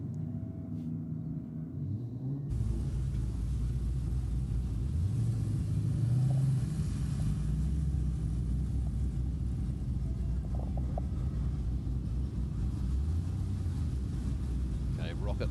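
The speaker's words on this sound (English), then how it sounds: "Sammy Joe comes out now in the dialed-in racing VE Commodore" A VE Commodore drag racing car pulls out at a drag strip, a loud steady engine rumble with rising and falling revs that holds continuously, mixed with crowd and commentary noise.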